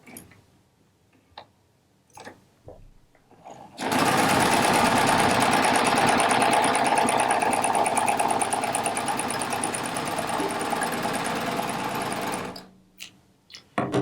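A Baby Lock Triumph serger runs a two-thread wide flatlock seam through fabric pieces placed right sides together, a loud, steady mechanical whir lasting about nine seconds after a few faint taps and stopping abruptly.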